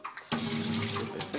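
Kitchen tap in a holiday apartment in Tenerife running steadily, a close, continuous splashing rush of water into the sink that starts abruptly and holds for about a second before easing.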